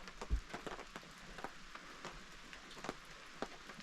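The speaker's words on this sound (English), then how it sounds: "Look at it, look at the rain. You can't beat camping in the rain." Rain at a campsite comes through as faint, scattered drops pattering on a surface, soft irregular taps over a quiet background with no talking.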